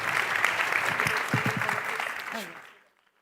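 Audience applause for a convention's panel of speakers, a dense wash of clapping that fills the room for about two and a half seconds before tapering off into silence.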